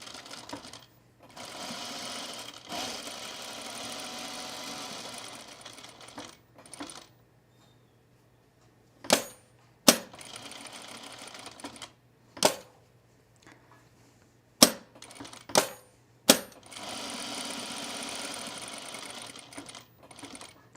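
A sewing machine stitches a pair of pants in short runs: bursts of rapid mechanical whirring broken by pauses, sharp clicks and thumps of handling, close and clear.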